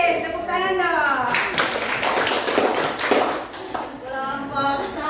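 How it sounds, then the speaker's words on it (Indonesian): Pupils in a grade 9 social studies class at a junior high school clap together for a few seconds, with children's voices and chatter around the applause. "Yes, tepuk tangan dong."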